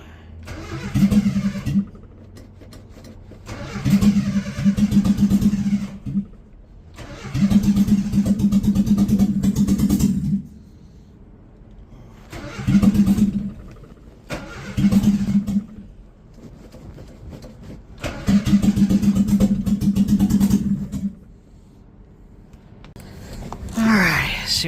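A Triumph TE Gemini's engine is repeatedly cranked and revved in short bursts, each surging for a second or several before dropping back, with pauses between attempts and occasional voices nearby.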